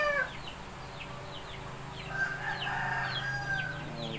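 Backyard game fowl chickens cluck and call at moderate distance, with short repeated chirpy notes and a longer crowing-like call near the middle over steady farmyard background noise.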